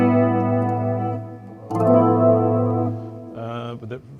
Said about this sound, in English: you have like a chorus through the pitcher amplifier, which is like a Dumble clone